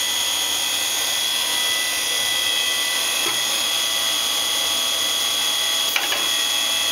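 Tsugami BS-20B Mark III CNC Swiss lathe with its sub spindle spinning at 5,000 RPM, a steady high-pitched machine whine and hum holding evenly throughout, with a couple of faint brief clicks.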